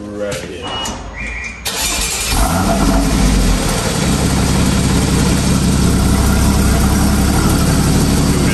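A Porsche Cayman 981 engine starts after a brief squeal, then settles into a loud, steady idle that runs continuously close by, with people talking nearby.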